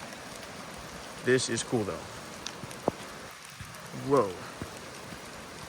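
Heavy rain pours steadily through a redwood forest at Henry Cowell Redwoods, an even hiss of drops all around, with a person speaking a couple of times over it.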